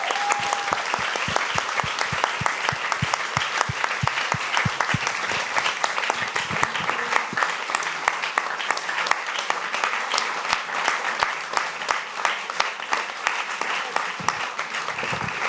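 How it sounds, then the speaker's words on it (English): A lecture hall audience claps at length, dense rapid applause with a sustained crackle that holds steady throughout and never fades. "a big applause also for Justyna Wydrzyńska"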